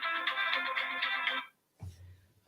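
A mobile phone ringtone plays loud and bright in a repeating melodic pattern for about a second and a half, then cuts off abruptly before a brief muffled thump and faint room noise.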